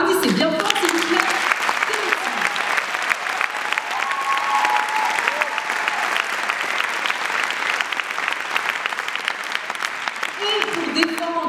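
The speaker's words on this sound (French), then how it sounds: "Applaudissez bien fort, s'il vous plaît." Sustained audience applause in a hall welcoming a debater onto the stage at an eloquence battle, dense and loud throughout with a voice speaking over it near the end.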